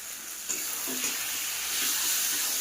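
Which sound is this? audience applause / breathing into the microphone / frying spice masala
frying spice masala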